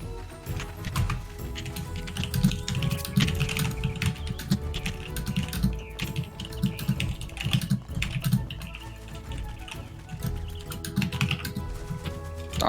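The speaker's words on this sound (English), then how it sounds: "Like my typing?" Typing on a computer keyboard during a Neopets: The Darkest Faerie game stream, with rapid, continuous clattering keystrokes that are close and fairly loud and run unbroken for over ten seconds.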